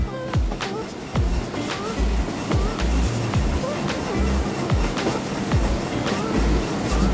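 A train runs in the Indian Police Train Simulator video game, its wheels striking rail joints in a steady clickety-clack over a constant rolling rumble.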